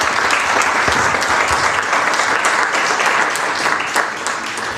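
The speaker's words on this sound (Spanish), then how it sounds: "por favor, pido un aplauso para todos ellos." Sustained applause from a large crowd at a public debate on the Mar Menor environment, dense steady clapping filling the whole stretch and tapering slightly near the end.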